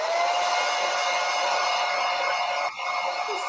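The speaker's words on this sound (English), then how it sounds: "using her blow dryer technique" A blow dryer runs steadily and loudly close by, a continuous whirring hiss with a brief dip near the end, used on a painting; no talk over it.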